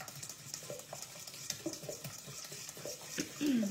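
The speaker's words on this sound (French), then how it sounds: "Donc je mélange bien." A fromage blanc and egg batter, twelve spoonfuls of cheese to five eggs, is stirred in a bowl. Soft, repeated scraping strokes come through quietly and close, with no talk.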